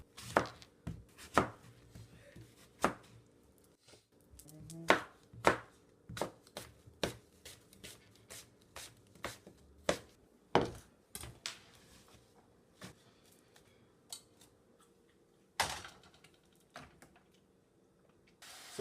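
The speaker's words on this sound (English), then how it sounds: "I need room to chop the other apple." Apples being chopped with a knife on a cutting board, a close series of sharp irregular knocks spaced about a second apart, with quiet shuffling between strokes.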